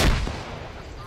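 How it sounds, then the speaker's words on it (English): A frag grenade thrown during a military field exercise goes off as one sharp, loud blast that fades into a rumbling decay outdoors. "They're throwing frags."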